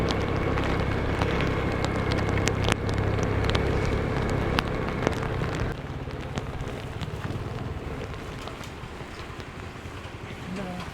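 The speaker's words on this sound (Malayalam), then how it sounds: "മഴ വന്നടാ." Steady rain falls around a vehicle on a hill road in Kerala near Vellarikkunnu, a dense continuous hiss that grows a little softer midway, with some background noise.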